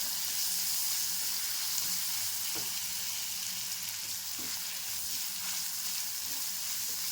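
Onion, garlic and spinach sizzle in a hot pan, a steady close frying hiss with faint stirring knocks scattered through, no voices.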